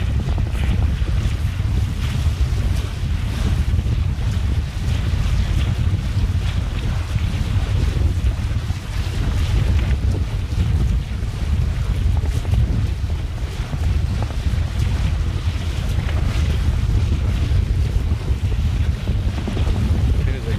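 Strong wind gusts roar continuously over a sailboat under sail, buffeting the microphone with heavy low rumble and rushing water-like noise; no clear talk.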